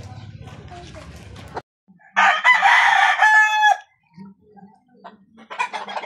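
A four-month-old SBR x High Action gamefowl rooster lets out one loud, close crow lasting over a second, with someone talking before it and brief clucks and voices after.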